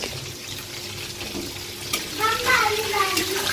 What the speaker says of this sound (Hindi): पानी डाल कर धोना पड़ेगा उसको